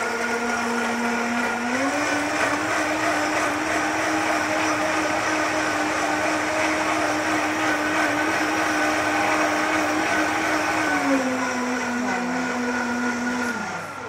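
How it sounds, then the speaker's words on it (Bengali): A blender whirring as it blends ABC juice with water, a loud, steady motor drone lasting about fourteen seconds, its pitch rising near the start and dropping as it winds down at the end. "দেন ভালো করে ব্লেন্ড করে নেব।"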